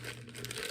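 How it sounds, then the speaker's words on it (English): A quart plastic bag is handled and pulled open close by, a brief soft crinkling rustle under a faint background hum, without speech. "quart plastic bag"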